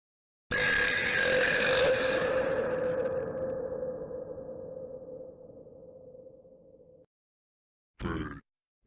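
Long, loud, drawn-out cartoon burp from an animation, a deep tonal belch that fades slowly over about six seconds, followed by a shorter, sharper sound after a brief silence.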